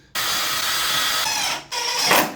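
A power drill runs in two bursts into a wall while mounting a ladder bracket, with a steady high whine, a brief pause, then a second shorter run, close and loud.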